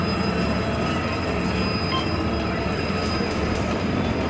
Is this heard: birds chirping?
no